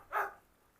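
A single short bark comes from a dog among a group of large dogs such as Dobermans and Cane Corsos being fed, a brief close yelp with no speech.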